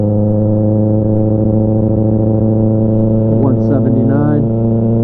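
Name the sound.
motorcycle engine revving after an oil change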